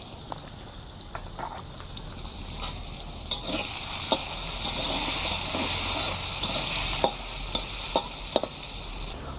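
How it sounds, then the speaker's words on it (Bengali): Potato pieces seasoned with salt and turmeric fry in hot oil, giving a steady close sizzle with crackling pops and occasional sharp clinks of a utensil stirring through the pan. "আমার আলু ভাজা হয়ে গেছে"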